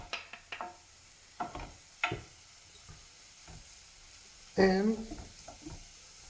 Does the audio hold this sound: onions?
yes